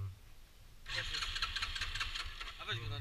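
A quad bike engine cranks and catches after a quiet start, then runs unevenly at a rough, knocking idle. People talk over the engine.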